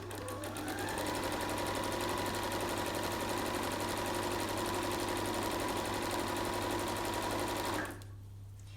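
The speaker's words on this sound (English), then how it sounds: "Making sure I'm only sewing through the 2 layers of fabric" A sewing machine stitches through two layers of fabric on a scrunchie, running with a fast, even mechanical whir for about eight seconds before stopping abruptly. The machine is close and loud, with no talking.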